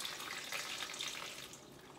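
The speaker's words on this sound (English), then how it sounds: "So I'm gonna fill it up with my water." Tap water pours steadily into a slow cooker being filled for homemade vegetable broth, a continuous splashing hiss heard close up with no talk.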